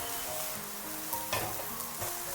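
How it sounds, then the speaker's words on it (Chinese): Eggs poured over onions sizzle in a pan on medium-low heat, a steady, close frying hiss with a few brief louder crackles and no talking. "鸡蛋倒入锅中，这里我们一定要开中小火，慢慢的给它煎制一下"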